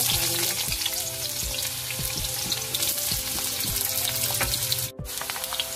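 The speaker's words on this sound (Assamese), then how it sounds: "অলপ এনেকৈ ফ্ৰাই কৰি ল'ব লাগিব" Potato pieces fry in oil in a large wok, a steady close sizzle with repeated scraping and stirring strokes, and a brief gap near the end.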